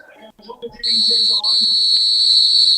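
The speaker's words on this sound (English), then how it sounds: "Final whistle gone at the Mazuma Stadium." A referee's final whistle at the Mazuma Stadium, home of Morecambe, blows as one long, loud, steady shrill blast. It sounds over crowd noise and follows brief talk.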